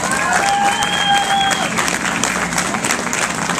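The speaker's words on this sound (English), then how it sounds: "Let's give them a round of applause." Sustained applause from an audience, steady and fairly loud, with a few whistles rising over the clapping early on.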